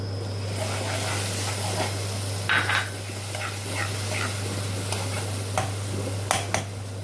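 Tomato paste frying in a spice masala for Sindhi egg curry, a steady soft sizzle with a constant low hum behind it, broken by a few brief stirring and scraping knocks of a spoon against the pan.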